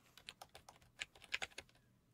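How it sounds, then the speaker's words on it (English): Quick, soft keystrokes on a computer keyboard tap out a short burst of about a dozen clicks, close and quiet, with no talking. "Just type in surface parameters."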